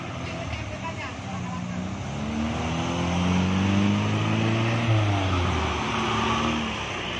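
An official vehicle drives past on a road at a landslide site; its engine hum rises to a peak midway, then fades as it moves off, while wind noise runs throughout.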